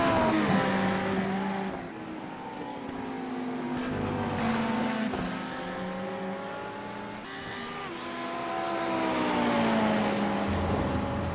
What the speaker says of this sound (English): That Ferrari sounds so wrong. When it's running on the limiter like that